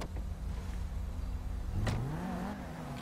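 A car in the GTA 5 video game revs, with a steady engine drone that rises in pitch toward the end, fairly faint and continuous without speech.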